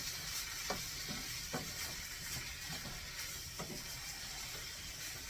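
Cowboy casserole with milk is stirred in a pot. A spoon scrapes in a steady, repeating rhythm under a constant soft hiss.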